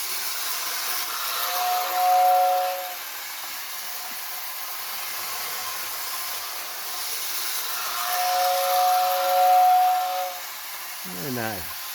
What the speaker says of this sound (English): has the whistle on the tender, and you can see it pull a train here